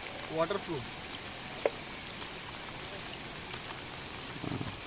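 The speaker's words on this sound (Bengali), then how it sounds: "টিপ টিপ বৃষ্টি কি সুন্দর বৃষ্টির মধ্যে" Light drizzle falls outdoors by a pond during fishing, a faint steady patter of raindrops throughout, with a person's voice briefly audible near the start.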